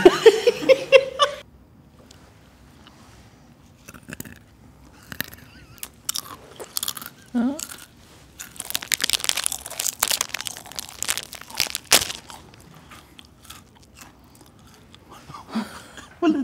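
Someone eats stuffed crust pizza up close in ASMR style, with crunchy bites and soft mouth sounds coming in scattered bursts between quiet pauses, plus a brief sharp sound near the start.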